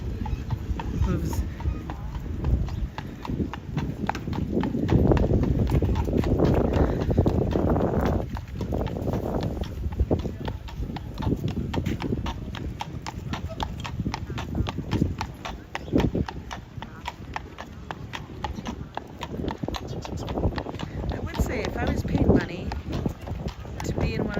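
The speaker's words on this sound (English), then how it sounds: "Nothing like the sound of a horse's hooves." Steady clip-clop of horse hooves on pavement, regular and fairly close, with people talking and New York City street bustle underneath throughout.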